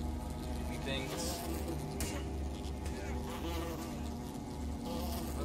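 A giant wasp in the fantasy game Fable buzzes steadily and fairly close through the whole stretch, a continuous droning hum with game ambience and people talking over it.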